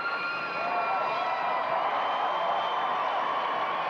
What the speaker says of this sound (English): You're hearing the crowd's reaction